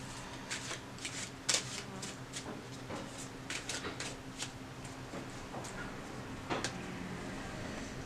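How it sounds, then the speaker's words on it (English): Tarot cards riffled and shuffled close up in a quiet room, a run of crisp flutters and taps with one sharper snap, with no talking. "One more shuffle and I'll cut the card."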